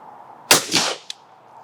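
A shotgun fires a single sharp, fairly close blast at a clay target, followed by a short decaying rumble and a faint click.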